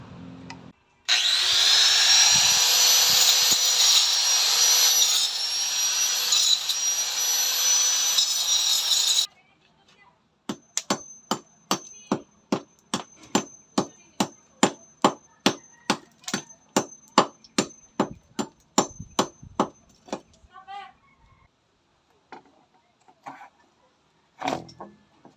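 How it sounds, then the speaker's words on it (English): Scraping and sanding away the leftover lip of a toilet drain: a long steady grinding whir, then a run of rhythmic rasping strokes, close and fairly loud, with no talk. "I'm gonna scrap whatever left over and sand it."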